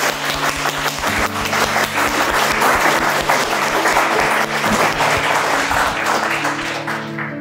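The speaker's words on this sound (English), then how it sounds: "I think they deserve a round of applause" Wedding guests at an intimate ceremony by the Suffolk estuaries break into a sustained round of applause for the couple, dense and close, holding steady for several seconds before easing off.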